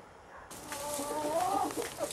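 Hens at an allotment plot cluck and murmur close by, a run of soft rising and falling calls over quiet outdoor background, with no talk.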